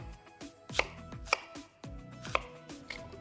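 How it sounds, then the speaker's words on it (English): A knife chops Kanzi apples on a cutting board in a quick run of crisp thuds, about half a dozen close, sharp strikes at an uneven pace with no voices. "Now it's time to dice the apples"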